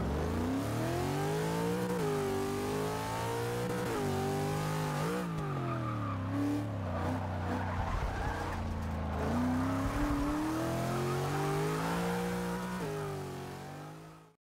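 Car engine in the Forza racing game revving through a corner, a steady loud drone whose pitch dips and climbs as it brakes and accelerates out, with brief tire squeal mid-turn; no voices.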